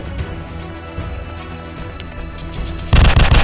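Gunfire in the mobile game Dino Hunters, a sudden loud burst of rapid shots near the end after a steady low game background.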